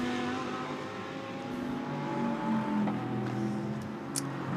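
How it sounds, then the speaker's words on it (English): Engine roar from a BMW race car during night practice at the Spa 24 Hours, a moderately distant, steady drone with shifting engine tones as the car goes through the corners. "42, the Tomczyk, Edwards, Farfus BMW goes through"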